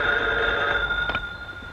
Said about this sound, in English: Joyce Edwards phoning you from the hospital.